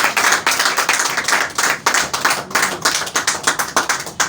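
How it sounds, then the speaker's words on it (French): A church congregation claps in rhythm, with loud, sharp, repeated hand claps in a steady, slightly irregular beat that lasts throughout, close and prominent. "Il faut applaudir à Dieu. Applaudissez."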